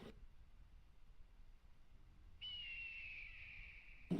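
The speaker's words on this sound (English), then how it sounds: "That is a loud bird." A loud, sustained squawk from a bird in the Conan Exiles video game, one long high call that rises suddenly and holds for nearly two seconds over a quiet hum of background ambience.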